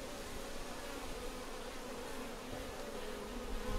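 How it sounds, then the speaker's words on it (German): Honeybee foragers and drones flying in and out at a Bioland beehive, a steady dense buzzing hum that stays even and close throughout with no voices. "Wir sehen, das sind halt die Flugbienen, die zurückkommen, inklusive den Drohnen."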